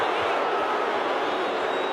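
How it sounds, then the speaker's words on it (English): Dense roar of an excited AFL crowd at the 2018 Elimination Final between Sydney and GWS Giants, a loud continuous wash of voices swelling in the stadium for two seconds with no distinct talk. "Crowd gets excited"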